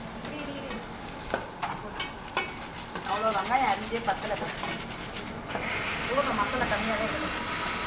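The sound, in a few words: sautéing onions in a pan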